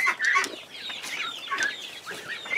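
Chickens clucking close by, with short bursts of overlapping calls and clucks scattered across a couple of seconds, no talking.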